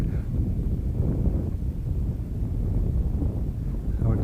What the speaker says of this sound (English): got some wind again, gusts again